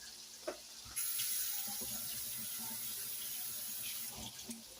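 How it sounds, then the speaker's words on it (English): Tap water running into a kitchen sink during handwashing, a sudden steady hiss that starts after a soft clunk and continues close and even, ending with a few splashes and knocks. "I gotta wash my hands"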